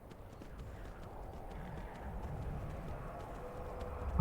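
Horse hooves in Skyrim, a steady quick clip-clop of galloping that stays moderately close and fairly quiet, with no talk over it.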